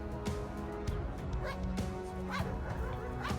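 Dogs of the municipal civil guard police kennel barking and yipping in a busy, noisy run, several overlapping barks at close range over constant background din.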